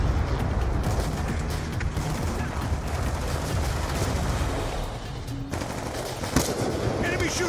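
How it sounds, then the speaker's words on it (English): Rapid, dense gunfire from a sniper engagement in the video game Call of Duty: Black Ops II, loud and continuous with sharp cracks and booms layered over a heavy battle din. "Taking sniper fire from the headwalk!"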